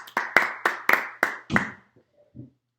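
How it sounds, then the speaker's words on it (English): A handful of people clap to welcome a guest on a basketball talk show, about six sharp, evenly spaced claps close by, followed by near silence and a faint voice. "And we give applause to Bryce Vitt."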